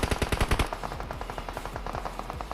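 Automatic weapon fire in the mobile battle royale game PUBG Mobile, a loud rapid burst followed by a longer, slightly quieter string of fast shots.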